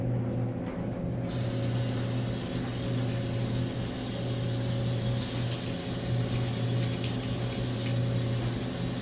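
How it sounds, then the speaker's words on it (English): Water runs steadily from a kitchen tap while hands are washed in preparation for making English toffee, a continuous close rushing hiss with a low hum beneath, no voices. "I am going to get ready to wash my hands."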